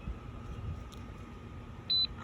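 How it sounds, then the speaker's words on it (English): A single short electronic beep from a Motorguide Xi5 trolling motor powering on sounds near the end over a steady low hum and background rumble. "So 1 beep means it's on"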